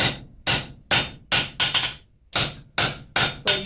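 A hammer strikes a railroad spike clamped in a vise in a forge, ringing out in nine loud, sharp metallic blows at a steady rhythm, with a short pause midway.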